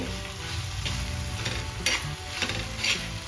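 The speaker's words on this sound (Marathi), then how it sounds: "आता आपल्याला काजू आणि बिब्याची गोडुंबी पण छान परतून घ्यायची आहे" Cashews and marking nut kernels fry in a pan for chicken khaliya, with a continuous close sizzle and a few sharp scrapes of a stirring spoon against the metal.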